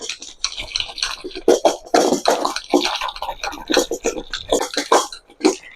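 Cream is churned by hand without added water to make butter. Irregular wet sloshing and squelching bursts come and go close up, uneven in rhythm, with brief pauses between strokes.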